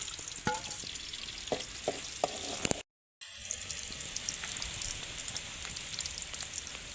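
Garlic and ground spices with coconut frying in a pan, a loud continuous sizzle with crackling pops and spoon scrapes, briefly cut by a short silent gap before the frying resumes.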